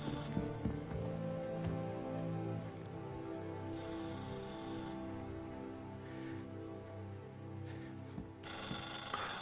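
An old 1938-era telephone rings in Mafia Definitive Edition, a bright, sustained metallic bell ring repeating in bursts over a dense game background with music, loud and close.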